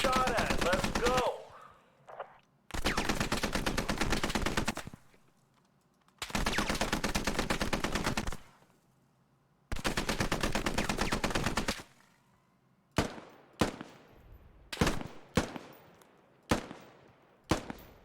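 Loud automatic gunfire sounds close by in four long sustained bursts separated by brief pauses, followed by a quicker run of single sharp shots and short bursts.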